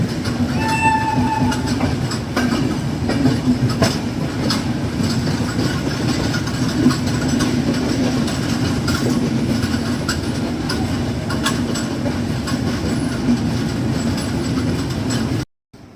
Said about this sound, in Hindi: आई थिंक फ्रेट ट्रेन है, फ्रेट ट्रेन क्रॉस कर रहा है।